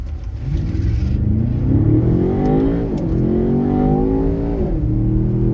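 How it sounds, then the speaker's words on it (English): A Tata Octa car accelerates hard uphill, its engine climbing in pitch through a loud, close revving surge, easing briefly and then pulling strongly again, with no voices. "drive up here as fast as I can"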